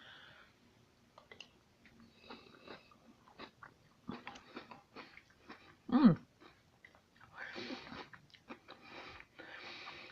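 Someone chews chunks of cucumber in warm Bahamian souse with meat, onions and potatoes: close, faint, irregular crunching and wet bites, with breathy snorts and one sharp, louder bite partway through.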